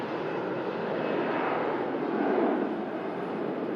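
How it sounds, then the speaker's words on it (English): A Scandinavian Airlines A320neo jet arriving from Copenhagen roars in a broad, steady rush at moderate distance, swelling slightly near the end. "Scandinavian Airlines Neo arriving in from Copenhagen."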